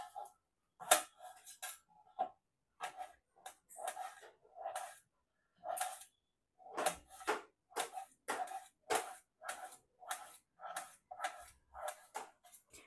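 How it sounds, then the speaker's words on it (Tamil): A knife chops a peeled potato into small pieces on a cutting board at home, a close run of crisp, sharp taps in irregular bursts with brief pauses, no talking. "ஸோ இது வந்து நம்ம குட்டி குட்டியாக சாப் பண்ணிடலாம்."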